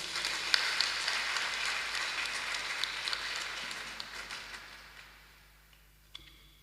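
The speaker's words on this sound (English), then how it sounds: "do the applause again, please?" A university congregation audience applauds at a formal assembly, a moderately faint, even patter of many hands clapping that fades away over the last couple of seconds.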